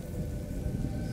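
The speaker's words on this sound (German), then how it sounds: "Keine Sorge, der Sturm übertönt unsere Stimmen." A thunderstorm in the video game A Plague Tale: Innocence: steady heavy rain with a deep, continuous rumble of thunder filling the whole short stretch, loud and even, with no voices.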